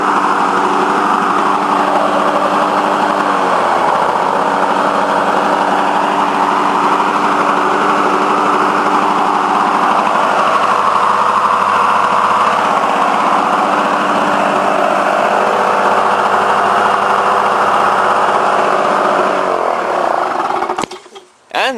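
A Lawnboy 8243ae lawn mower with an F-Series engine runs after its muffler was replaced, a loud, steady close-up engine drone lasting about twenty seconds before it abruptly shuts off.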